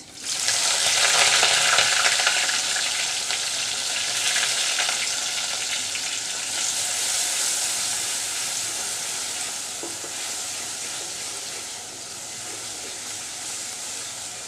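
Grated onion frying in oil with browned garlic for a lemon pabda fish curry, a loud, steady broadband sizzle that swells early then settles, with light stirring and no voices.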